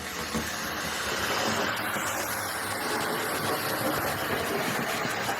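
A Hornby Britannia Class Robin Hood R2142 model locomotive runs fresh out of the box, producing a steady, even motor whir and track rush that holds at a constant level throughout.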